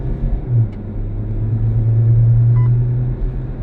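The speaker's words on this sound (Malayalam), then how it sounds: "ഇതിപ്പോൾ ഒരു ഒരു ഫുൾ ആക്സലേഷൻ കാണിക്കുകയാണെങ്കിൽ ഫുൾ പെഡലാണ്" A diesel Jeep Compass under full-throttle acceleration gives a loud, steady engine drone that rises and holds, heard from inside the cabin with road rumble underneath.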